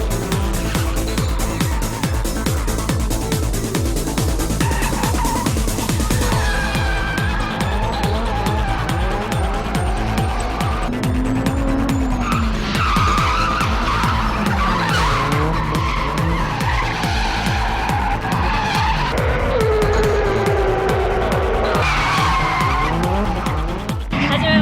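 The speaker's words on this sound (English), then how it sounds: "in about half an hour they gather somewhere else and start drifting again" Cars drifting at a street gathering, with loud continuous engine roar and long screeching tire squeal that rises and falls throughout, close and dense, an S15 Silvia drift car among them.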